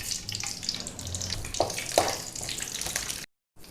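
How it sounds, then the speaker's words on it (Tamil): Whole spices, cinnamon, fennel, cloves and cardamom, sizzle in hot oil and ghee for a coconut milk biryani, a steady crackling hiss with a couple of sharper pops before a brief silence. "எண்ணெய் காஞ்சதும் இந்த பட்டை, சோம்பு, கிராம்பு, ஏலக்காய் எல்லாத்தையும் போட்டுக்குவோம்."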